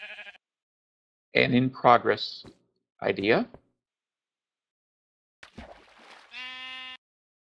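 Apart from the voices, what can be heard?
sheep bleating in Minecraft video game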